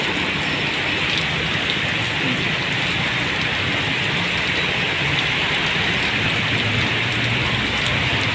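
Heavy rain pours steadily onto a slick road used by buses, jeeps, cars, motorbikes and tricycles, a dense, even hiss that stays loud throughout with no breaks.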